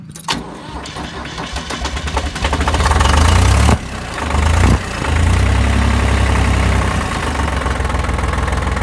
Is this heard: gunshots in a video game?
no